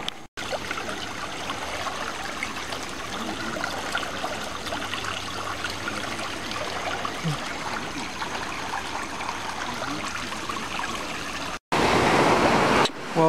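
Surf washing onto the main beach at Manuel Antonio National Park in Costa Rica, a steady broadband roar of breaking waves that runs almost without pause, with one brief dropout and a louder closer rush at the end.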